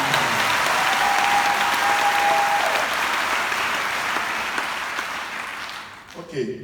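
Church congregation applauding loudly and steadily at a service in Senegal, a dense continuous clap wash that fades toward the end as voices rise.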